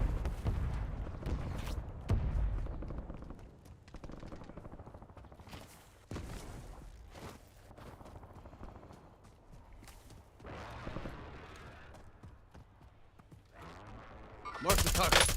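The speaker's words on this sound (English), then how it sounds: "Someone just sniped at me." Gunfire and sniper shots in a video game, scattered sharp cracks and booming shots mixed with rumbling battle noise, moderately loud, with occasional speech.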